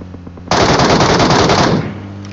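Automatic rifle fire in the mobile battle game PUBG Mobile, a sudden loud burst of rapid shots lasting over a second, then cutting off into quieter game ambience.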